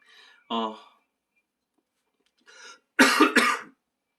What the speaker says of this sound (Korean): 간헐적으로 기침이 나더라도 이해를 좀 부탁합니다